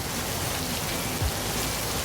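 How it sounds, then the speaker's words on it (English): Heavy rain pours down in Kuala Lumpur as a dense, unbroken hiss that stays loud and even throughout, with a brief low thump partway through. "It got rain here because it got"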